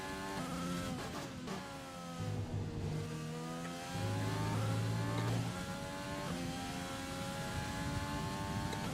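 F1 car engine from the F1 2020 racing game, loud high-pitched revving that climbs and drops through repeated gear shifts over a lap, alone with no talk.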